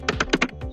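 A few quick keystrokes on a computer keyboard, about five soft, close taps in under a second.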